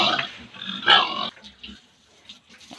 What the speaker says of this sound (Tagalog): Ako ni pamahaw akong mga alagang baboy.